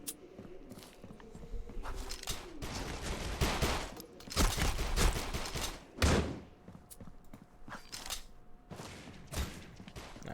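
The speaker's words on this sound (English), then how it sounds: "We get the pistol action going" Rapid pistol shots ring out during a Critical Ops match, loud bursts and clusters of gunfire with thuds in between, mixed with busy game noise.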